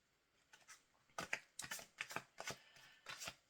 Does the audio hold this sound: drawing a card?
yes